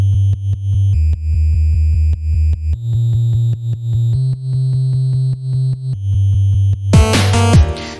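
Chiptune sub bass in the NES style, a triangle-wave synth playing a steady run of low stepped notes with a soft hollow tone, loud and alone, ending in a short burst of bright noise.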